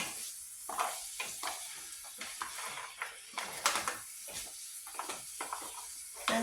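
Mussels stirred in a pan give a soft sizzle under a string of scraping, clattering strokes at an uneven rhythm, close but fairly quiet.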